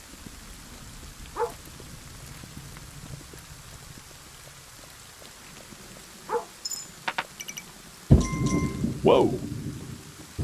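Storm rain patters steadily in Kingdom: Two Crowns while soft distant rumbles roll by, then a sudden, loud crack of thunder booms close and shakes on for a couple of seconds; a person exclaims briefly.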